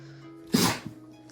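A single sneeze bursts out indoors, close and fairly loud, over a faint steady hum; a small follow-up breath comes just after.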